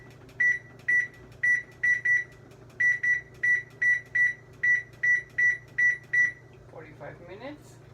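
An oven timer, set while a cherry streusel pie bakes, gives a steady run of about fifteen sharp electronic beeps in quick pairs and singles over a low appliance hum, and a faint rustle follows at the end.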